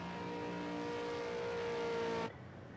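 AI supercars lap a racetrack during qualifying in a PC racing game, producing a steady, droning engine roar that holds evenly before cutting down abruptly near the end.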